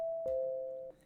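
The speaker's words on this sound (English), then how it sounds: "why I named it doorbell, because it literally sounds like a doorbell" A synthesized doorbell-like tone built in FL Studio from stock plugins rings as one steady, sustained electronic note, with a second softer strike partway through, heard alone and fading at the end.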